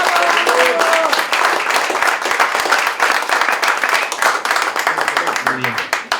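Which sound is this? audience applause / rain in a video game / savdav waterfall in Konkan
audience applause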